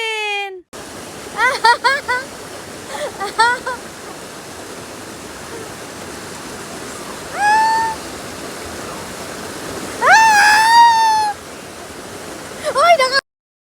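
A strong river runs through a bamboo garden at New Bataan, Davao de Oro, making a loud, steady rushing roar close by. Voices shout and call over the water at intervals.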